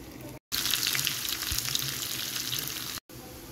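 Loud, steady sizzling of dried red chillies and bay leaf frying in hot oil, a dense crackling hiss that cuts off briefly at the start and end.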